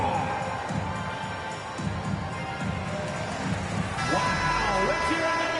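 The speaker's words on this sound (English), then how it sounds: "let's hear another round of applause for your Spurs Hype Squad dance team" A basketball arena crowd cheers and roars continuously around a loud announcer's voice, with whistles and horn-like toots rising toward the end.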